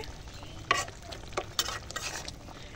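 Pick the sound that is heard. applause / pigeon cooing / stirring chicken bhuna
stirring chicken bhuna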